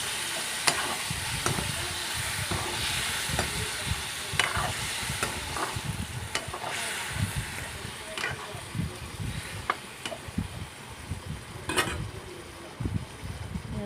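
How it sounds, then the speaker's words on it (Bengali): Pointed gourd pieces stirred with salt in a sizzling frying pan, repeated scraping and clattering strokes over a steady fry, with a person speaking throughout. "তারপর আবার ভালো করে নেড়ে নেব লবণগুলো যাতে মিশে যায় পটলগুলোর"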